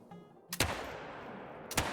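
Two sharp shots from a .22 Magnum rifle in theHunter: Call of the Wild, each loud crack followed by a lingering echo on an outdoor range.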